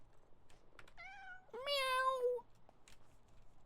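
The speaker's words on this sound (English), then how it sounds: "Meow." A cat meowing in the video game Powerwash Simulator 2, two clear rising meows close together, the second longer and louder, over a quiet background.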